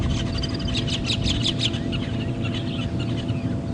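Wattled starlings calling on a morning safari drive at Djuma Game Reserve: a run of bright, chirpy notes in the first half, fading into scattered softer calls over a steady low rumble.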